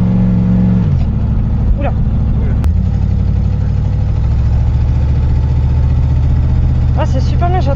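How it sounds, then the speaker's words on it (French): A Pontiac Firebird Trans Am replica of the K2000 car accelerates on a race circuit, its engine a steady, loud low drone that shifts pitch early on, with a brief exclamation from someone inside. "Accélération, peut-être sur la ligne droite devant les stands."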